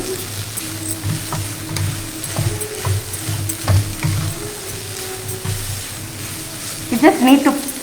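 Cooked black-eyed peas sauté in oil in a pan for a South Indian savory dish, giving a soft sizzle with faint stirring scrapes and a louder clatter near the end.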